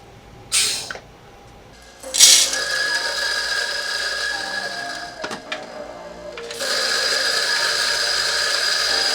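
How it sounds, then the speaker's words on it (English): A hand coffee grinder on a Wacaco Nanopresso barista setup crunches beans with a close, ratcheting mechanical grind that comes in bursts, then settles into a steady, loud grinding whir toward the end. "Now, I'm going to grind some beans and let's make some coffee."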